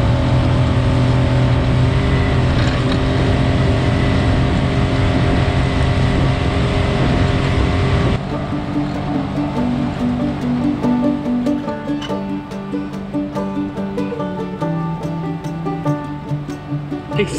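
A tiny speedboat runs through choppy evening sea off the coast toward Brighton, its engine droning loudly and steadily, then lower and more uneven with wind and water rushing in the second half.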